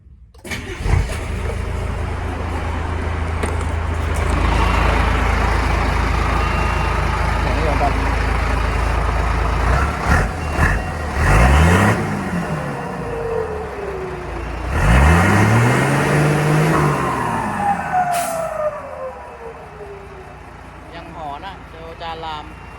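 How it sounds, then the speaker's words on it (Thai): Customised Teller Mega 260 vehicle engine cranking and starting, then running at a steady rumble and revving in several loud rising bursts, heard up close while someone talks in between. "มาฟังเสียงเครื่องยนต์กัน"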